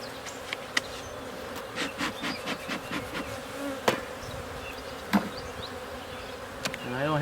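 Honeybees buzz around an open beehive during a spring hive inspection, a steady close drone with individual bees zipping past and a few faint clicks and knocks.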